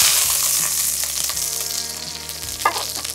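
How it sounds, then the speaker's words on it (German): Beef for Franconian Sauerbraten sears in hot clarified butter, producing a loud, continuous close sizzle and crackle that persists throughout with small spatters. "Das Fleisch wird von allen Seiten im heißen Butterschmalz nun angebraten"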